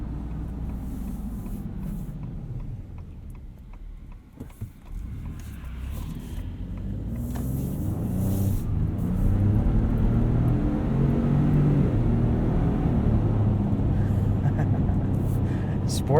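Cabin of a 2021 Ford F-150 Tremor on the move in sport mode, a low engine rumble that builds steadily louder, with a voice talking over it throughout.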